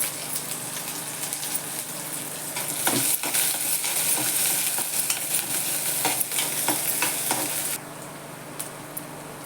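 Mustard seeds and cumin dropped into hot oil for an eggplant dish, a dense crackling sizzle with scattered pops and spatters, steady and close, without talk.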